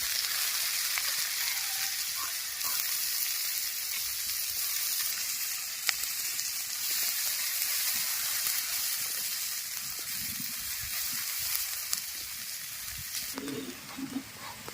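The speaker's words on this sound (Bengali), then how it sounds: "এবার দিয়ে দেব চারটা পেঁয়াজ কুচি" Four chopped onions fry in a pan with a steady, loud sizzle that runs throughout, with a few faint stirring knocks and a brief clatter near the end.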